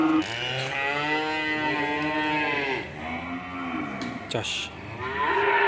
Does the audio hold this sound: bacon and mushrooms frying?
no